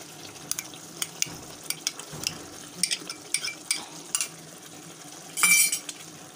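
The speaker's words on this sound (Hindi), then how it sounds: "अब इनको मिक्स करेंगे और इनको अच्छे से फ्राई करेंगे।" Spices for lobia salan are stirred and fried in a pan, with a steady sizzle of oil under repeated scraping and clinking of a spoon against the metal pot.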